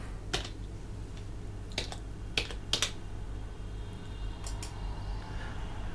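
Sparse keystrokes on a computer keyboard with an AZERTY layout: a handful of sharp, close clicks spaced irregularly over about six seconds, some in quick pairs, above a steady low electrical hum, with no talking.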